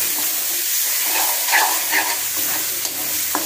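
Shrimp and vegetables fry in a pan with onion, giving a loud, steady sizzle and hiss punctuated by a few scraping stirs.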